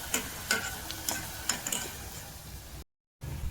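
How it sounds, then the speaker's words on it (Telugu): Brown onions frying in a pan for paneer biryani, a steady close crackle with scattered stirring clicks and sharper pops, briefly cut to silence near the end before resuming. "బ్రౌన్ ఆనియన్స్ అయితే ఇక్కడ ఫ్రై అవుతున్నాయి"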